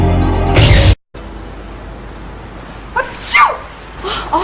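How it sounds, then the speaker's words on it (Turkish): A cartoon character sneezes loudly at the start, then after a brief cut two or three higher, shorter sneeze-like bursts follow over a steady background. "Bu kadar hapşırmak fani olmayan birisi için pek de normal değil."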